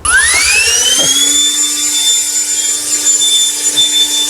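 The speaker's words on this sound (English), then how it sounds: "my OGERY leaf blower" An OGERY cordless handheld leaf blower spins up to a loud, high-pitched whine and holds a steady roaring hum close by, running continuously with no talk.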